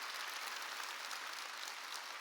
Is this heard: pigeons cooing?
no